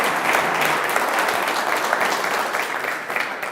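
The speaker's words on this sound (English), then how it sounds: "A big round of applause" Full audience applause at a facade industry summit, thick continuous clapping that stays loud and even for several seconds.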